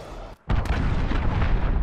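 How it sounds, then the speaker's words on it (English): A cruise missile strike in Call of Duty: Modern Warfare hits after a brief moment of near silence with a sudden, loud, booming explosion, followed by a sustained roaring, crackling rumble of debris and fire. "Enemy cruise missile, take cover."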